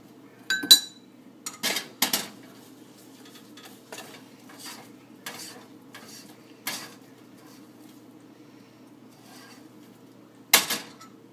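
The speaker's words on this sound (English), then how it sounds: "This is why you need that second spoon. So you can scrape it out." A metal spoon scrapes and clinks as hardening smoke grenade mixture is dug out of a pan, in several short, sharp scraping bursts separated by quiet gaps.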